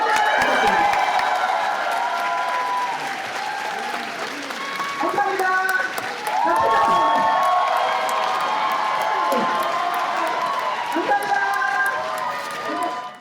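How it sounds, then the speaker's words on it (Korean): Wedding guests break into loud applause mixed with cheers and whoops after a song, the crowd noise swelling and surging while voices ring out over it. "여러분 우리 조현 씨에게 다시 한번큰 박수"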